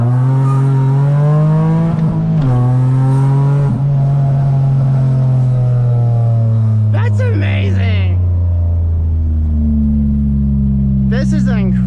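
A 2009 Mitsubishi Eclipse GT engine revs loudly and up close during an acceleration pull, its pitch climbing and then dropping with each gear change, with short bursts of a voice cutting in.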